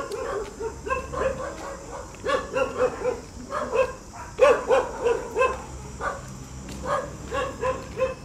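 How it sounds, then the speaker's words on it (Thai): Several dogs bark in quick, repeated bursts at moderate distance, overlapping yips and woofs continuing steadily throughout. "โยมได้ยินเสียงสุนัขนะ"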